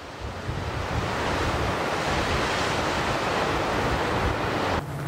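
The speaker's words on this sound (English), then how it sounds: "Just got to show you the waves clashing down there." Ocean waves crash and wash on the shore below a steep hill in Dingle, heard from above as a broad, continuous roar mixed with wind buffeting the microphone, steady and loud throughout.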